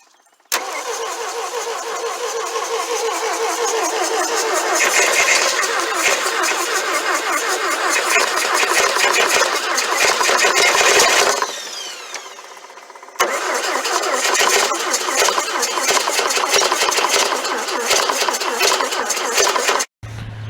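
1964 Volvo PV544 with a freshly rebuilt carburetor cranking and firing up, engine running steadily and loud, cutting out briefly midway, then catching again and running until an abrupt stop.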